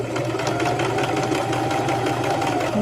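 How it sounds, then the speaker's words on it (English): Sewing machine stitching fabric, a rapid, even mechanical chatter running steadily from start to finish with no talking over it. "I'm just going to sew until I get to this little mark right here"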